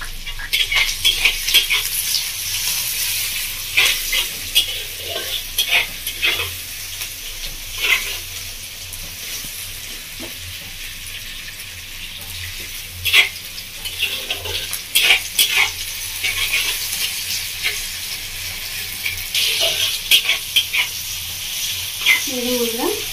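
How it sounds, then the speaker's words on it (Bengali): Onions with a spoonful of salt fry in a pan, a steady sizzle broken by repeated scraping stirs of a spoon against the metal. "পেঁয়াজটা হালকা ভাজা ভাজা হয়ে যাচ্ছে"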